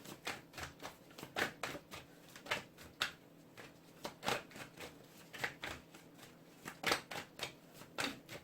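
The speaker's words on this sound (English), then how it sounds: "I'm just going to pull all the cards and then we'll do the reading." Tarot cards being pulled and shuffled, a steady run of crisp papery riffles and flicks in quick bursts, close and fairly quiet with no talking.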